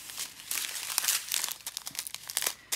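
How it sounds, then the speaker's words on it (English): Close, irregular crinkling and crackling of plastic packets of DMC embroidery thread being handled, with no talk. "Sorry for the rustling while I get to number one."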